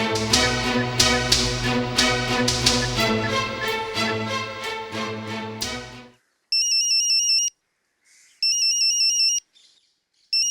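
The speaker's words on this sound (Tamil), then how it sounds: "ரிங் போகுதுங்க." After music fades, a phone ringback tone sounds on an outgoing call: two evenly spaced electronic rings, each about a second long, separated by silence.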